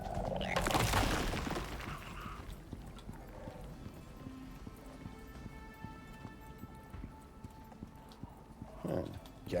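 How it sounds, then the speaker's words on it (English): A player character's icy footsteps in the survival game Icarus: a loud crunching burst, then a steady run of faint, rhythmic crackling steps with a thin tonal hum behind them. "I have icy footsteps apparently"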